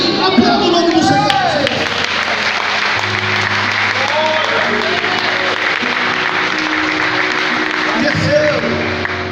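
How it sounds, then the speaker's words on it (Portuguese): A church congregation claps loudly and continuously during a sermon, a thick, steady roar of hands mixed with raised voices and shouts, close and full throughout. "Aplauda o nome do Senhor."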